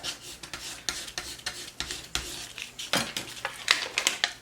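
Transfer tape being rubbed and pressed down onto vinyl on a mug: a series of short scraping, brushing strokes, close and fairly quiet, in an irregular rhythm.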